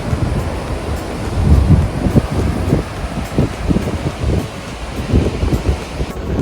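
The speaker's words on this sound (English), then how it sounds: "it's windy here" Strong, gusty wind on Kauai's southern coast buffets the microphone with low rumbling bursts, steady throughout, with no voices.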